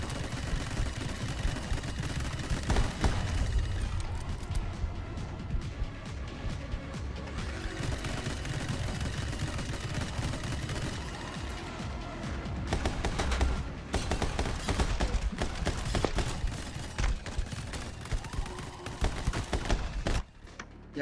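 Gunfire in the video game My Friend Pedro, dense and continuous bursts of rapid shots layered over game music and effects, loud throughout with no speech.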